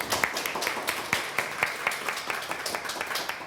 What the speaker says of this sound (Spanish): Les pido por favor un aplauso para nuestros compañeros de mediación